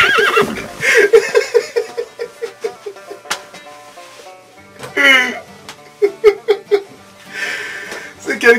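A horse neighs in several loud, shrill whinnies with bursts of chuckling laughter, interspersed with rhythmic rapid pulses and short pauses between calls.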